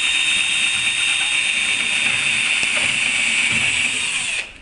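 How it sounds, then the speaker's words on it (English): A loud, steady power saw whines continuously at close range, a high grinding buzz that cuts off abruptly at the end. "I'm about to be drowned out by sawing"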